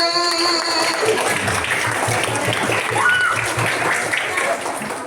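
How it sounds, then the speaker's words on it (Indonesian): Children's audience at a storytelling session clapping and cheering, a dense steady wash of hands and young voices held loud for about five seconds with shouting mixed in. "Tepuk tangannya mana?"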